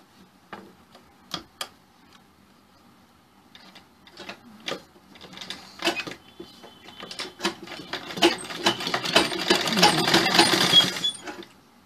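Sewing machine stitching a blouse, starting with a few isolated ticks and short runs, then building into a continuous rapid whirring stitch that grows louder and denser toward the end.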